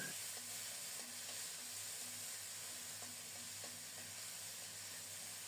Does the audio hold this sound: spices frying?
yes